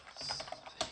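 Quick light keystrokes on a computer keyboard enter a terminal command, a short run of close taps ending in a firmer key press.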